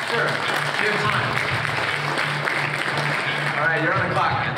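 Audience clapping at a business summit as a speaker takes the stage, steady dense applause throughout with a low hum and voices talking underneath.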